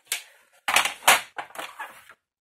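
A small, cheap paper trimmer slices through scrapbooking paper in a few quick, close clacking cuts and scrapes, each burst short and crisp, with brief pauses between strokes.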